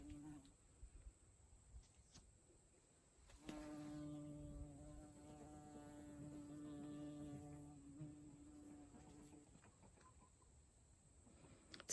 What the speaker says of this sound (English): Oh, the bee's back.